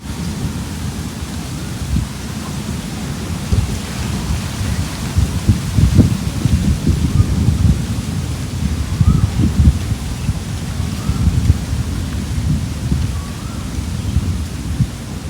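Steady rain with gusting wind fills the scene under a stormy sky, low rumbling bursts of thunder rolling through at close range, loudest around the middle, with no voices over the continuous wash.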